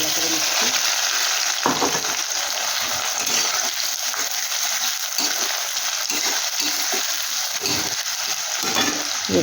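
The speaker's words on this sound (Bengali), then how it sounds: "পেঁয়াজটা একটু ভাজা ভাজা করে নিচ্ছি" Onions fry in mustard oil in a wok, a loud, steady sizzle that crackles throughout, punctuated by a few sharper clinks and scrapes as they are stirred.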